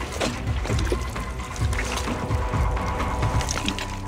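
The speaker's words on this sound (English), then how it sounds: "This is a solid flow of water coming in as the tide comes in." Tidal water pours steadily into a river channel in Madagascar as the tide comes in, a loud, close, continuous rushing and gurgling flow with splashy churn and no talking.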